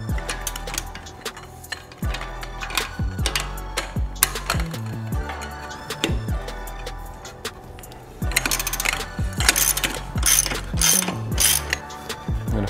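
A ratchet wrench loosening an 18 mm bolt on a BMW G20's suspension clicks in quick, close repeated strokes, with short pauses between bursts and no talk.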